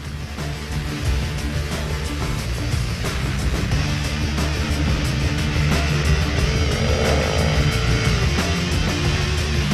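Supermoto motorcycles, motocross bikes fitted with road wheels and tyres, racing on the asphalt kart circuit at the Chaika autodrome during a Ukrainian championship round; a dense, continuous engine roar stays loud throughout with shifting revving tones.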